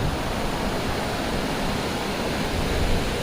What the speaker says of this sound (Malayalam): ഇത് ബെനോലിം ബീച്ചാണ്